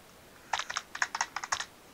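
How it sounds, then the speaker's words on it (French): Fingers tapping a computer keyboard in a quick burst of about a dozen crisp, close keystrokes, with brief pauses between small clusters, over a quiet background. "Je ne sais plus écrire au clavier."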